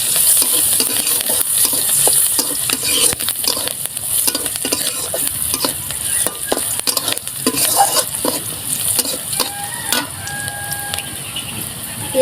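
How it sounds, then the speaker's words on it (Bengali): Chopped onion and garlic fry in a pan for a mashed pangas fish dish, giving a steady sizzle broken by frequent scrapes and clinks of stirring, with no talk over it. "পেঁয়াজ আর রসুন খুব ভালো করে ভাজা হয়ে গেছে।"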